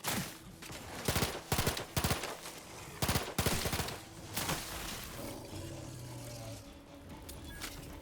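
Gunfire in The Outer Worlds 2: a string of sharp, loud shots in quick clusters over the first half, close and cracking, then fading to quieter background rumble and scattered distant pops.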